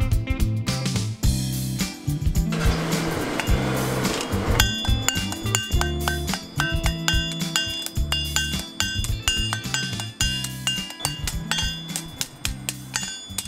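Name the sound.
blacksmith hammering iron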